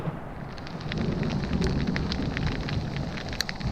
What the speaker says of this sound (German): Es donnert immer noch.